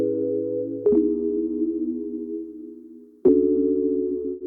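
Lo-fi electric keyboard chords with light tremolo play as two sustained chords, each struck sharply and held with a slight wavering pulse, loud and alone with no voices.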